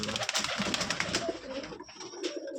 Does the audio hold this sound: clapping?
no